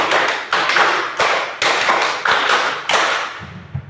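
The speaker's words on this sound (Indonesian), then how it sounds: "Tepuk 5 2 kali." A group of people clapping in unison, sharp sets of quick claps repeated in a steady rhythm, loud and close, with no voices.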